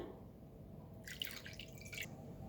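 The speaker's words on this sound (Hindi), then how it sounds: "पानी मैंने हाफ कप डाला है, नीम गर्म पानी" Half a cup of lukewarm water goes into a bowl with plain yogurt and sugar for naan dough, making a brief, quiet splashing trickle in a still kitchen.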